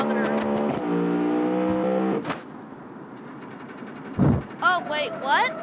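Video-game car in BeamNG.drive revs with steady engine harmonics, then cuts off abruptly after about two seconds, followed by a quieter stretch and a few short bursts of sound near the end.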